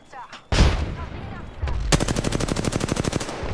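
Apex Legends gunfire: a single sharp shot, then a long rapid automatic burst of evenly spaced loud cracks, with a voice briefly heard early on.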